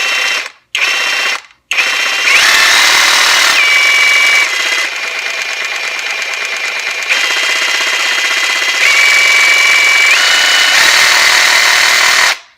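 A Kimo 20V cordless brushless reciprocating saw runs alone and loud after a few brief trigger blips, its whine stepping between lower and higher speeds as the variable trigger is squeezed and eased.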